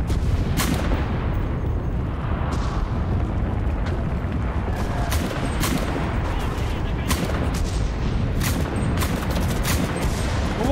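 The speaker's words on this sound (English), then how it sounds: "somebody put an arty on C." Artillery strike in the Enlisted video game: a continuous heavy rumble of shelling with repeated sharp blasts and cracks spread across the stretch, loud and dense, with no clear pauses between impacts.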